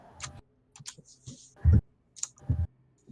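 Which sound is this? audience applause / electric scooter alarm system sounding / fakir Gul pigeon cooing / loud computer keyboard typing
loud computer keyboard typing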